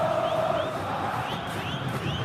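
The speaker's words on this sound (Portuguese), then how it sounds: "Olha a torcida coxa branca aí, vivendo a sua empolgação" Coritiba supporters in a packed stadium at a Copa do Brasil final roar steadily, a dense continuous crowd wash with scattered shouts and whistles rising out of it throughout.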